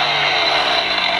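A tiny toy chainsaw Halloween decoration runs with a steady, buzzy whirring drone, loud and unbroken throughout, with no voices.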